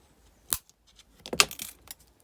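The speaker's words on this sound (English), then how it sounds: "I'm going to cut those wires to finish at the back." Jewellery wire being snipped for a wire wrap pendant, two sharp metallic cuts close by, the second followed by a brief jangling rattle, with quiet pauses between.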